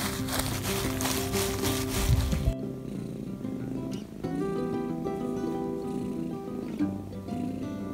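A house cat purrs softly and steadily beneath louder background music, a low continuous rumble running through the whole stretch.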